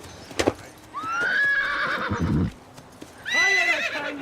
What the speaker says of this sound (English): She's a splendid horse.